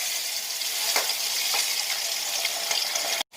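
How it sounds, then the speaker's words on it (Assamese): Pabda fish frying in smoking-hot mustard oil, a steady broadband sizzle and crackle with a few sharper pops, continuous and close, ending abruptly in silence. "এতিয়া মই তাতে মাছকেইটা দি দিম ফ্ৰাই কৰিবৰ বাবে"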